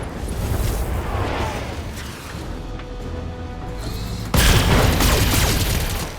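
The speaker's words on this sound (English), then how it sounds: "These turrets are putting work in" Turrets firing in the BattleTech mech game, a dense sustained barrage of booming shots and explosions that swells louder near the end, with no talking.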